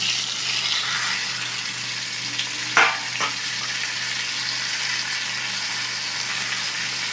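Fried hilsa fish in a pan after set-aside spices are added, giving a steady, close sizzle with one sharp clatter of a utensil partway through, and no one speaking.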